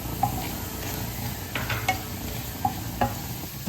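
Fried onions sizzling in hot coconut oil as pepper powder is stirred in, a steady close crackle with a few sharp spoon taps against the pan, no talk.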